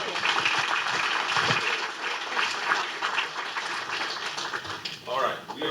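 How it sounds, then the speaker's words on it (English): A tech meetup crowd gives sustained applause after a fireside chat with a Business Insider journalist, a dense, even wash of many hands that fades slightly as a voice begins near the end. "One more round of applause for Alyson."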